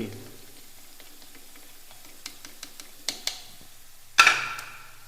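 Green chillies fry in hot oil with a few scattered pops and crackles, then a sudden loud spattering burst that fades into a lighter sizzle.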